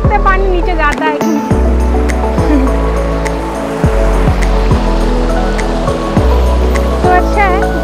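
Water rushes at Gaudhas waterfall in Nuapada, Odisha, a steady loud roar heard close by throughout. Tonal chirps and a music-like layer sit on top of it.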